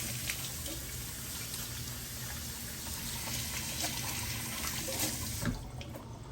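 Tap water runs steadily into a kitchen sink during hand washing, a continuous close hiss and splash that breaks off near the end with a few splatters.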